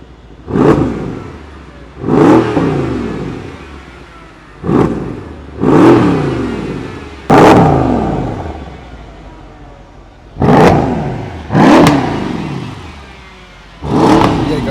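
A freshly rebuilt Mercedes CLS 63 AMG engine revved in short, close blips, about seven separate rises that each climb and fall back to idle, with pauses between them and no talk.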